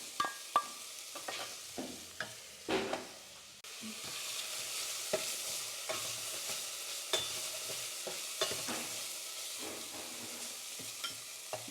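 About four cloves of garlic are dropped into a frying pan of lentil peas and stirred, sizzling steadily under a series of scraping spoon strokes and taps.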